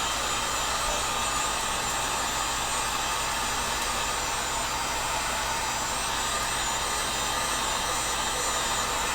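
Heat gun blowing a steady, even rush of hot air onto PVC being shaped into a toy sword blade, a constant airy whir held for several seconds without speech.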